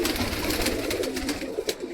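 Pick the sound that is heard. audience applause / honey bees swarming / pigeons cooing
pigeons cooing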